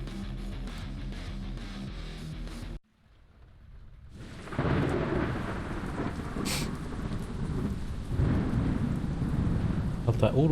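A thunderstorm rumbles in a horror video game, with heavy rain hissing and a thunder crash, then a brief near-silent break before the storm swells back loud and dense.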